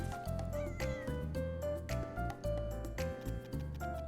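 A cat meows in the video game Little Witch in the Woods, a few short cries set against steady game music with ticking, harmonic tones.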